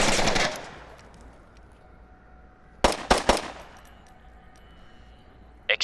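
A shotgun firing slugs in a video game: a loud blast opens, then a tight cluster of about three sharp shots comes a few seconds later, and a brief final report follows after a quiet gap.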